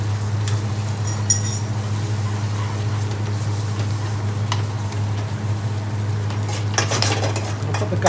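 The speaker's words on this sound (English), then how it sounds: "Give it a little stir." Chicken vindaloo curry being stirred in a pan over a gas flame, with clinks and scrapes of a utensil against the pan over a steady low hum and a bubbling simmer.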